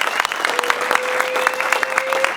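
An audience at an interview event with John Rzeznik of the Goo Goo Dolls bursts into loud, dense applause, with many hands clapping steadily and a faint tone running beneath the clatter.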